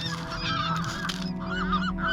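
Seagulls call in a continuous crowd of honking, squawking cries while feeding on fries, close and loud over steady outdoor background noise.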